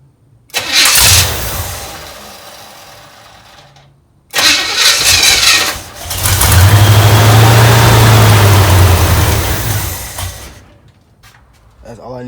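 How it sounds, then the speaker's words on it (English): A 1968 Chevrolet El Camino engine under rebuild cranks and fires, dies back, then cranks again and settles into a loud, rumbling idle close by before revving down. "Now I'm finna try to turn it over."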